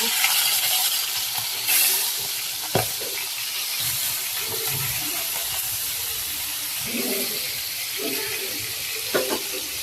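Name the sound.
fish frying in a pan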